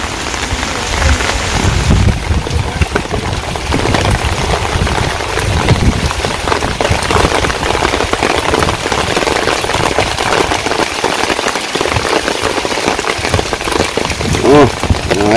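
Steady, dense rainfall drumming on surfaces nearby in a Bangladeshi village, a continuous hiss with low rumbling underneath, no voices.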